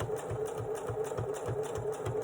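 A sewing machine stitching through a wallet, running with a steady, rapid mechanical chatter at close range, its needle strokes repeating evenly throughout.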